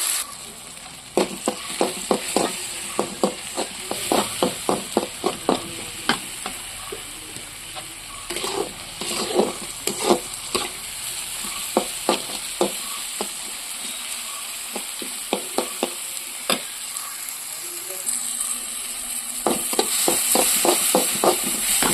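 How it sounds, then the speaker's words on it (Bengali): Masala of cumin, tomato and onion sizzles in a wok for an egg and potato curry. A steady fry hiss runs throughout, and a spatula scrapes and taps in repeated quick bursts. "এটা ভালো করে ভাজা করব, মশলাটা করে ডিম আর আলু তুলে দেবো এর মধ্যে"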